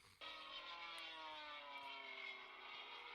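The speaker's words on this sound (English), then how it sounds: "Okay, airplane." Airplane passing overhead with a steady engine drone and a downward pitch glide from the Doppler shift, loud and continuous throughout, with no talking.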